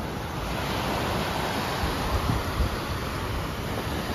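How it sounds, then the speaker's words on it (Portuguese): Rough sea surf at Praia das Castanheiras in Guarapari, churned up by rain and strong wind, forms a steady broadband roar with wind buffeting the microphone, continuous and fairly loud, with no voices. "O mar tá agitadão, mas é porque tá chovendo, né? Venta bastante e tudo mais."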